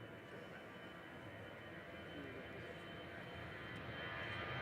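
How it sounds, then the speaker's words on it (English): An EasyJet passenger jet departing Manchester Airport gives a steady, distant broadband roar that swells slightly as the clip goes on. "EasyJet departing to Amsterdam."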